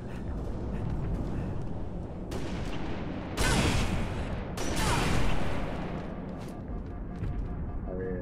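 Gunfire in Halo rings out in a busy firefight, with sustained shooting and two louder bursts of shots standing out around the middle.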